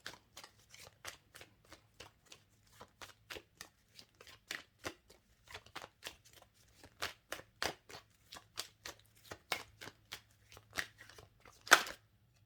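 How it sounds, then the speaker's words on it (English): Tarot cards shuffled in a rapid, steady run of crisp riffling flicks, close and fairly quiet, with a sharper snap near the end and no talking. "Can we have a few final cards for Aquarius?"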